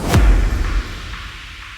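A drum and bass transition effect hits as a loud low impact with a bright sweep, then fades into a softer, decaying tail over under two seconds.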